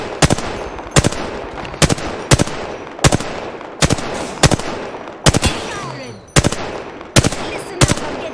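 Gunfire from an R-301 rifle and an R-99 submachine gun in Apex Legends. Loud, close shots come in rhythmic paired or tripled bursts, repeated about every second over a faint background hum.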